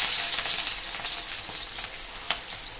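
Chopped onions sizzle in hot oil with nigella seeds and vegetables in a home kitchen pan, a steady bright crackling hiss with small pops, no talking.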